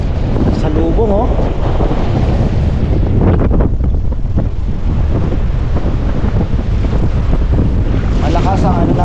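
Strong northeast monsoon wind roars steadily into the microphone at Casapsapan Eco Park beach in Casiguran, Aurora, with surf and water rushing underneath and faint voices now and then.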